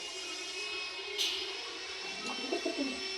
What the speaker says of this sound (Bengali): এটি কালাঙ্কা পায়রা, খুব সুন্দর পায়রা একটি পায়রা